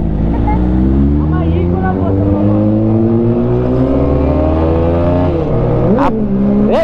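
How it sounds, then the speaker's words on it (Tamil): A Kawasaki ZX-10R motorcycle engine revs under throttle, a loud, steady close-up drone whose pitch climbs gradually and ends in a sharp, quick blip of the throttle. "இங்கே த்ராட்டல் பண்ணு"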